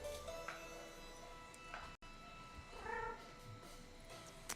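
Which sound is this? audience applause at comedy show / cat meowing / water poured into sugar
cat meowing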